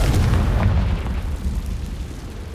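A Confringo blasting spell from Hogwarts Legacy erupts in a deep, rumbling explosion that starts loud and heavy, then rolls off into a fading low boom, with no voices.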